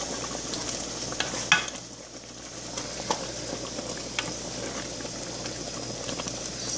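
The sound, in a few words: stirring okra soup in a bowl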